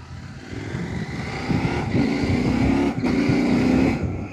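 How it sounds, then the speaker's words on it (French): A motorcycle fitted with a pro quickshifter accelerates hard, its engine note rising steadily, then cutting off sharply for two clean upshifts before climbing again, loud and close with no talking. "Alors vous avez entendu le shifter pro, c'est incroyable."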